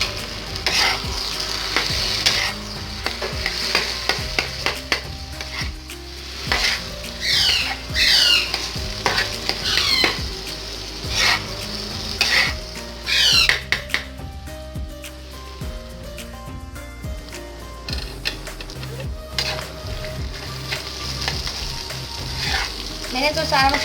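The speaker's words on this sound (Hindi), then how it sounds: "ये जो हमने चटनी बना के रखी थी ये चटनी शामिल करेंगे और इनको मिक्स कर लेंगे अच्छी तरह से" Fish katakat with chutney being mixed on a hot griddle at a Karachi street food stall: rapid metal spatula clanks and scrapes in irregular bursts over a constant close sizzle.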